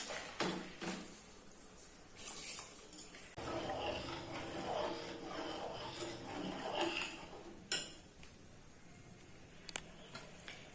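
A spatula stirs rice pudding (payas) made with bora rice in a pot at home, giving soft scrapes and light clinks against the metal in uneven bursts, with a voice speaking at times.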